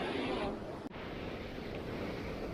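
Water from Simba Falls flowing in the river below, a steady broadband rush of moving water with wind on the microphone, loud and continuous throughout, with a brief dip partway through.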